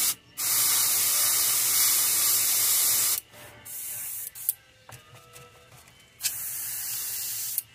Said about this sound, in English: Matte black, always hardest color there is to spray.